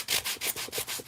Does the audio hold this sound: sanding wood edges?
yes